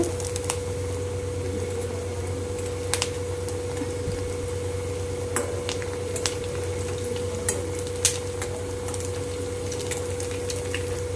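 Special pitha rice cakes frying in a home kitchen, a steady low oil sizzle running throughout with occasional sharp utensil taps and scrapes against the pan.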